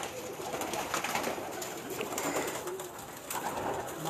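Lakha pigeons coo softly against a hissy rooftop background, the low murmuring calls repeating irregularly throughout at moderate distance, with no speech.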